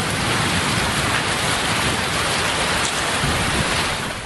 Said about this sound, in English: But first, a thunderstorm, because this is the Midwest.